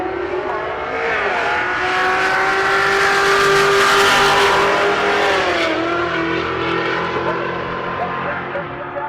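Nissan GTR drag race car launching and accelerating hard down the strip at a race week event, loud rising engine roar with gear-shift dips and tire noise, fading slightly as it pulls away.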